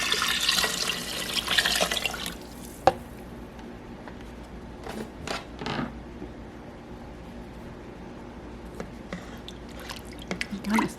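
Water poured into a cooking pot in a home kitchen, a rushing stream for about two seconds, then a clink, soft sloshes and light kitchen handling noises, close and fairly quiet.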